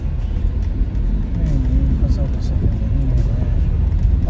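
Small Hyundai Santro hatchback driving slowly over a rough, off-road stretch amid a traffic jam, a steady low engine and road rumble throughout, with people talking over it.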